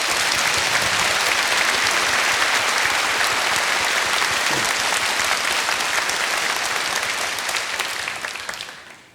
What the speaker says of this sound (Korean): 큰 박수를 좀 다시 한번 보내주십시오